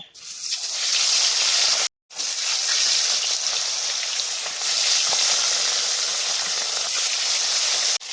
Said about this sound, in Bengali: তেল খুব ভালো করে গরম করে নিয়েছি মাছগুলোকে ভেজে নেব